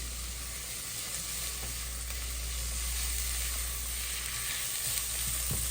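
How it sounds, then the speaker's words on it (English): Ravioli stuffing frying in olive oil with laurel leaves, a loud, even, close sizzle with a faint hiss running steadily throughout. "I'm gonna fry that a little bit here until it's almost translucent, really"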